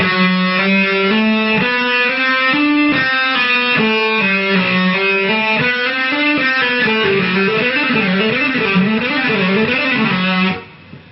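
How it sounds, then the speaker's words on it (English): A distorted electric guitar plays a fast, repeating legato pattern of one picked note and two hammer-ons, smoothly connected, cycling in an even rhythm before stopping abruptly. "playing pick, hammer, hammer"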